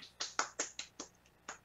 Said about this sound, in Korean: 응원의 박수 한번 부탁드리겠습니다